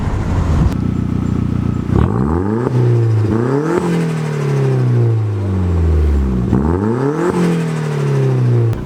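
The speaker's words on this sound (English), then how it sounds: "You can hear the turbo even spool up" A VW Golf 1.8T fitted with a K04 turbo, heard from outside as the engine revs up repeatedly with rising sweeps and turbo spool whine, loud and close, no talk.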